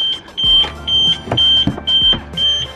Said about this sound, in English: The alarm likes to go off.